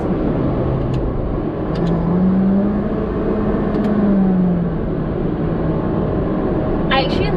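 A 2019 Honda Jazz 1.5L accelerating in sports mode, engine note rising and falling through a downshift, a steady droning whir under continuous road and cabin noise.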